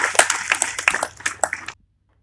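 Audience applause at a hospital ceremony honouring COVID-19 frontline healthcare workers, a burst of sharp, close clapping from a modest crowd that stops abruptly into silence.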